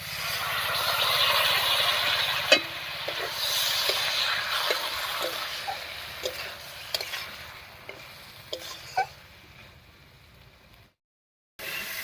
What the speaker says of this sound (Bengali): মশলা বাটার জল দিয়ে সবজির সঙ্গে মশলাটাকে খুব ভালো করে কষিয়ে নিয়েছি